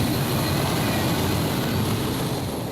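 Turbine-powered Whispering Giant pulling tractor in the Modified Class at a Eurocup tractor pulling event in Brande, Denmark, running with a steady, loud, dense jet-like roar and high whine that holds constant throughout without pause.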